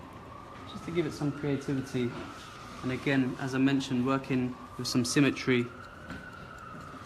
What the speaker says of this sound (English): We've got some sirens going on.